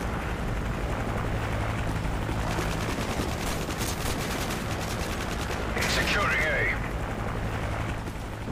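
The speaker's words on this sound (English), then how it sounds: "Helicopter ready for deployment." Cobra attack helicopter with rapid gunfire in Call of Duty: Modern Warfare 3, a dense continuous roar of rotor noise and bursts of automatic fire throughout, with game voice callouts underneath.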